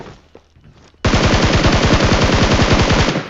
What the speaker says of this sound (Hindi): ये देखो भाई साहब, मुझे भी शॉट्स पड़ने लगे।